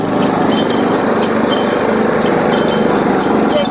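A small sugarcane juice machine runs at a roadside stall by a ferry jetty, giving off a continuous high-pitched motor whine with a steady rattling texture, close and loud, with no talking.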